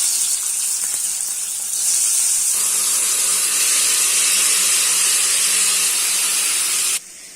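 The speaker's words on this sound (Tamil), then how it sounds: "எண்ணெய் நல்லா காஞ்சி எடுத்து இப்ப நம்ம தக்காளியை போட போறோம்." Tomatoes drop into hot sesame oil in a pan for tomato pickle, setting off a loud, steady hiss and sizzle that swells after a couple of seconds and holds until it suddenly quietens near the end.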